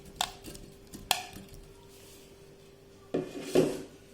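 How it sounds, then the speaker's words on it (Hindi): Watermelon cubes dropped into a mixer jar, a few separate soft thuds and knocks of fruit against the container, with quiet pauses between them. "सबसे पहले मिक्सर के जार में हम हमारे वाटरमेलन क्यूब्स डालेंगे।"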